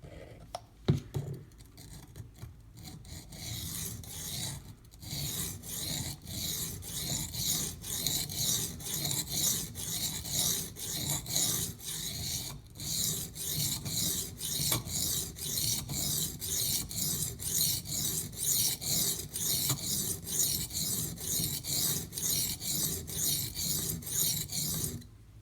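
A knife blade is worked steadily against a Schrade Old Timer sharpening stone, each stroke a close, rasping scrape that repeats in a dense, even rhythm for the whole stretch with no voice.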